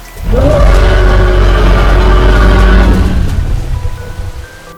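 Custom dinosaur roar effect from a Roblox dinosaur game with T. rex, Triceratops and Ornithomimus, one loud, low, grinding roar sustained for nearly three seconds before tapering off, heard alone.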